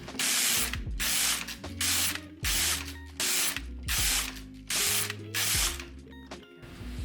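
A hand-operated knitting machine carriage is pushed back and forth across a swatch, giving loud rasping mechanical passes, about eight in a row with brief pauses between, close and without talk.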